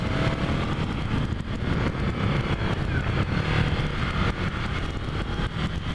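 A Ducati Scrambler Cafe Racer motorcycle engine revs steadily and loudly for several seconds, a continuous throaty drone with wind noise and no talking over it.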